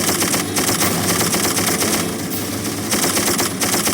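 In the video game Darkest of Days, a mounted machine gun fires a loud, continuous stream of rapid shots with no break, heavy and close throughout.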